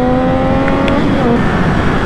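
Triumph 675 Street Triple R 2008 motorcycle, its three-cylinder engine giving a steady high whistling whine with sustained tonal lines over a continuous mechanical roar, loud and close throughout.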